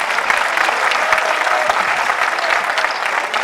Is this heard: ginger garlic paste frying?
no